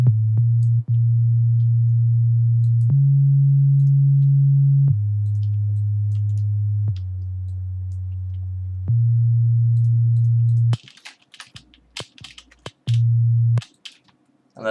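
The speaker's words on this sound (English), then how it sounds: "I'm gonna add basic sine wave, that's basically sub bass." Plain sine-wave sub bass, programmed in FL Studio, plays as loud sustained low tones that step between a few pitches. A patch of clicks and snaps follows near the end before a final bass note.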